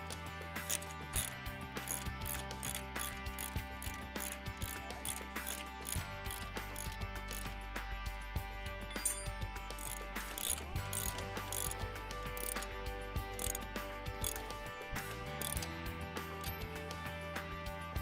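A ratchet tightens nuts down onto washers and lock washers, giving a fast run of metallic clicks that carries on steadily for a long stretch, close and fairly quiet.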